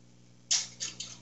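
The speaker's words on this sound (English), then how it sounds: "listening for is hearing these jars pop. So that's the sound of the top being sucked down" A canning jar lid gives a sharp metallic pop as it seals, followed by two quieter ticks in quick succession against a near-silent background.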